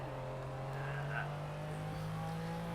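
A McLaren F1 driven with no electronic aids in the racing game Project CARS, a steady low engine drone holding a constant pitch throughout, moderately quiet and continuous, with a faint background voice.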